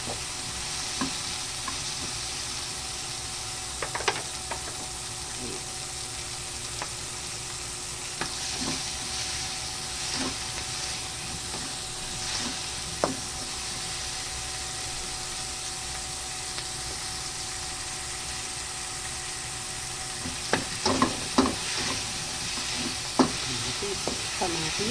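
Garlic, onion and white onion sautéing in a pan for ginataang labahita, a steady close sizzle broken by scattered utensil scrapes and clacks, louder toward the end.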